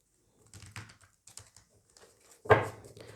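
A tarot card deck shuffled by hand, soft rapid clicks and riffles in short bursts ending with a sharper flutter, close and quiet with no talk.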